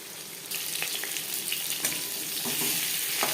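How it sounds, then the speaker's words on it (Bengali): Silver carp pieces fry in hot mustard oil, a bright, steady hiss of sizzling that starts abruptly and crackles on close and loud. "একটা সাইড ভাজা হয়ে গেলে অপর সাইডটা উল্টে দেবো।"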